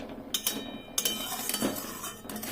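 A spoon scrapes and clinks against a pot while semolina pulao is stirred, several light metallic taps and scrapes at an uneven pace, close and fairly quiet.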